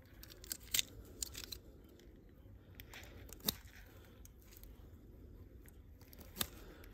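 A utility knife makes a few sharp, brief cuts through a desert rose stem being prepared for grafting, isolated clicks and snips spaced apart over a quiet background.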